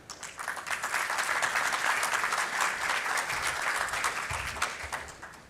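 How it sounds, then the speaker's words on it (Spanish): An audience at the opening ceremony of the EXCON 2024 construction expo applauds to welcome the housing and construction minister, with steady, moderately distant crowd clapping that swells and then gradually fades. "Durich Francisco Wittenbury Talledo, a quien vamos a recibir con un fuerte aplauso para escucharlo."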